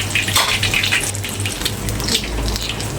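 Siakap fish frying in hot oil in a pan, a steady loud sizzle and crackle filling the whole stretch without pause.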